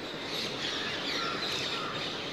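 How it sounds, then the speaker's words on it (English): Rose-ringed parakeets at an early-morning roosting colony in a tree, their shrill, overlapping screeches carrying from a distance over a steady background wash. "Those are the ringneck parakeets or rose ring parakeets"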